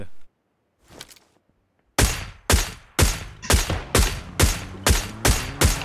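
Rapid gunfire in PUBG Lite on the Vikendi map, a loud, close string of about nine sharp shots at a steady rhythm, each with a ringing tail, after a few faint, distant pops and a brief silence.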